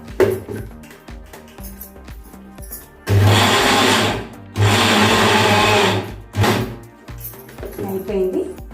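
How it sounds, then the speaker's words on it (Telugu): Mixer grinder blending jaggery, poha flour and milk in bursts: two long whirring runs and a short pulse, loud and close, separated by quieter moments with a voice talking in between. "అలా ఒకసారి మిక్సీ పెట్టేసి"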